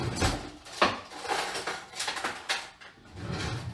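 In a home kitchen where chocolate mousse is being made, someone fetches a teaspoon, and cutlery and dishes clatter and clink in several close, irregular bursts, as a drawer is handled.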